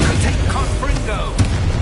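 Confringo blasting spell explosions in Hogwarts Legacy, a dense run of booming blasts and crackling bursts, loud and continuous with a sharper hit near the end, mixed with busy game effects.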